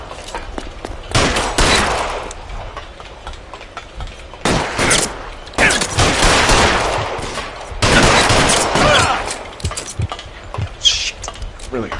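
Bursts of gunfire crackle through an L.A. Noire shootout on PS4, several loud volleys of rapid shots separated by short pauses, with a low engine hum and scattered voices beneath.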